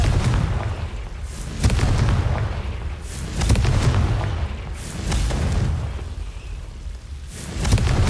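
The Confringo fire spell goes off in Hogwarts Legacy as loud, heavy booming blasts that repeat about every second and a half over a continuous rumbling background.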